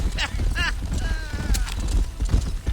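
In the Red Dead Redemption video game, horse hooves clip-clop in a quick rhythm at close range, with character voices and game ambience over them.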